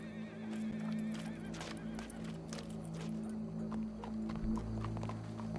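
Horse in Red Dead Redemption 2 giving loud, close whinnies over a rumbling background and a low sustained hum, with the clatter of hooves mixed in across a few seconds.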